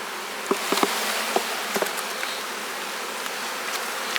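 Honey bees buzz in a steady, dense drone around a hive frame where young bees are emerging, with a few faint clicks and knocks over the hum and no voices.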